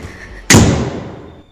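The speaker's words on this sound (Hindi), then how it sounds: "कमरे का दरवाजा जोर से बंद करते हुए" A single hard slam as a room door is shut forcefully, a loud, close thud with a ringing tail that fades over about a second.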